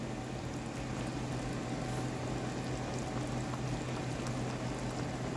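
Coconut milk boiling hard in a pot with shrimp cooking in it, a loud, dense, continuous bubbling and churning that stays steady throughout without voices.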